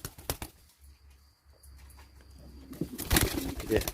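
Pigeons, including Malatya play pigeons, coo and flutter at an evening feeding, soft low calls giving way to louder wing flaps and bustling near the end.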